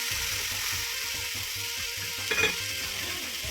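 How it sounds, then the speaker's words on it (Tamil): Vegetables with peas and beans stirred in a frying pan, a steady sizzle running throughout with soft scraping from the spoon and one sharper clink of metal near the end. "நல்லா கிளறி விட்டுக்கலாம்."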